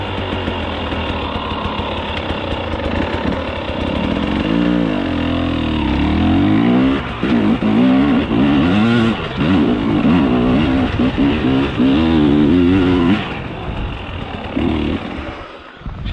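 Husqvarna 300 TEi motorcycle with a remapped ECU accelerating hard at full throttle, a loud steady engine roar rising and falling through gear changes over sixteen seconds, with no talk.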